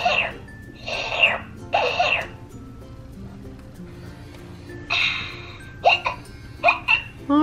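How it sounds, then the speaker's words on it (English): A Baby Alive Lulu Achoo doll gives a series of short, bright electronic hiccup sounds in bursts, close and fairly loud, separated by pauses with a quiet background hum. "Oh, she has hiccups now."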